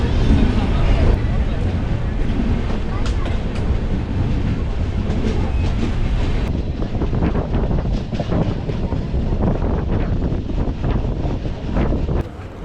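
An intercity passenger train from Chennai to Coimbatore rumbles steadily along the rails near Tiruppur, loud and continuous, with wind buffeting the microphone throughout.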